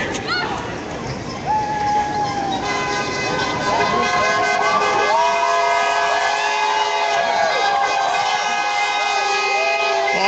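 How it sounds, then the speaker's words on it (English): Car horns honking in support of a May Day street march on St. Catherine, several overlapping sustained toots and blasts rising and falling over crowd and street noise, fairly loud and close. "Honks of support."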